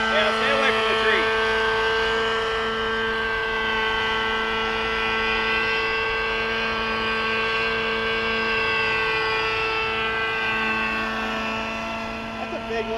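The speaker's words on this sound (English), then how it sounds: "That's a big looking chopper even in the air." A large helicopter circles in the air, its steady droning rotor hum holding loud and constant throughout with harmonic whine, fading slightly near the end.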